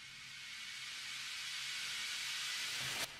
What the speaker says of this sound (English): like white noise